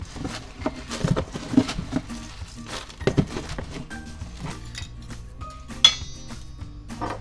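A spoon clinks and scrapes against a bowl while oats are stirred into cinnamon for banana and chocolate chip baked oatmeal cups, with irregular close taps and a brighter knock near the end.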